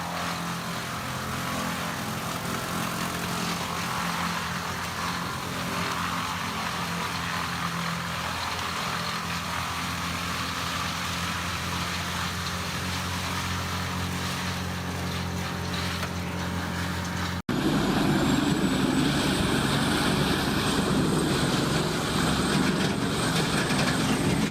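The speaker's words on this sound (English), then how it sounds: "the CBI Magnum Force 8400 de Bear is operating at full throttle" A CBI Magnum Force 8400 grinder shredding logs at full throttle in a large timber stockyard sends out a continuous loud engine roar with a droning hum, and the tone shifts abruptly near the end.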